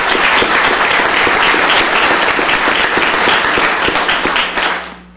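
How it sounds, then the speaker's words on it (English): Sustained applause from an audience at a county commissioners court session honoring long-serving employees, dense steady clapping throughout that fades out at the very end. "So let's give them another big round of applause."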